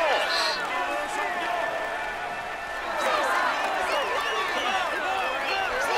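Roadside crowd at a Tour de France stage finish, Châtel to Puy Mary, cheering and clapping in a steady wash while a commentator talks over it.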